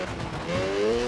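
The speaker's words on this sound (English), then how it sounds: "Drifting." A car drifts in Need for Speed, its tyres giving a brief rising squeal over the engine's roar, loud and close for about a second.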